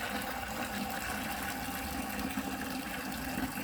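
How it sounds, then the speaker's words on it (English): Water from a hose filling a pool filter container to dilute chlorine, a steady, fairly faint rushing and gurgling flow that runs continuously without talk. "we're gonna turn on the water, and we're gonna fill this up to about half of the filter with water"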